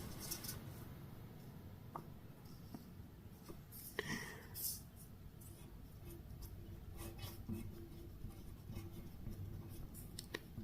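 A hand writing out the Pythagorean theorem formula during a maths lesson: faint scratchy pen strokes and small taps scattered over ten quiet seconds, with low room noise underneath.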